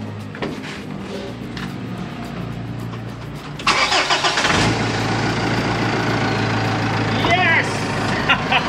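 A car engine cranks and catches after a DIY engine bay cleaning with homemade degreaser, roaring up loudly midway and then settling into a steady close idle, with voices talking over it.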